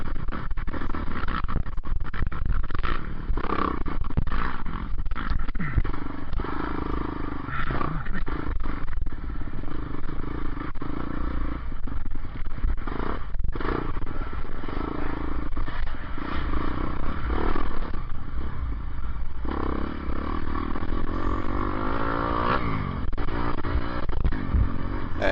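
Dirt bike engines rev and snarl continuously at a dusty hare scramble race, a steady loud blend of buzzing two-stroke motors rising and falling over the whole stretch.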